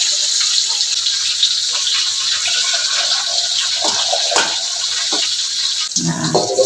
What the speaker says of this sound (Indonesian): Kita tuangkan dulu ya si bayamnya ini